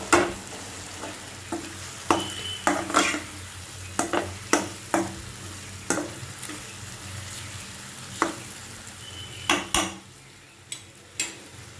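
Tomatoes and black pepper stirred in a sizzling pan for an Afghani egg omelette: a steady sizzle under repeated clinks and scrapes of a utensil against the pan, close and moderately loud, with no talking.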